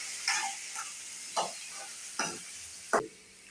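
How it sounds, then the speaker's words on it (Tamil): Curry leaves and coriander leaves being sautéed in a pan, with four or five separate scraping stirs sounding over a faint background sizzle, each stroke a short, bright swish followed by quiet. "கொஞ்சம் நல்லா வதக்கி விட்டுருணும்"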